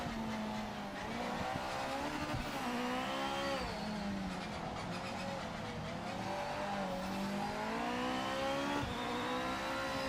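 Engine of a GT500 race car in Project Motor Racing, loud and continuous, pitch rising and falling with repeated gear changes and brief dips, with no voices.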